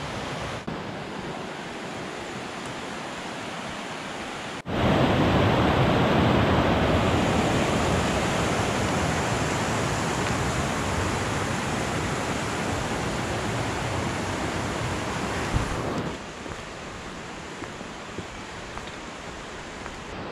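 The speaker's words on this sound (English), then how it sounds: "there's a lot of water running off the land to fill up this river and produce this fantastic sound" River in winter on Exmoor, swollen with runoff from the land, rushing loudly and continuously as a broad roar that swells partway through and then eases back to a softer wash.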